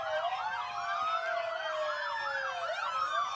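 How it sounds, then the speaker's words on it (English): A parade's lead police car sounds its siren, a loud wailing tone that sweeps up and down continuously and close by, with no talking over it. "Mary Ann, we're right here coming with the first police car."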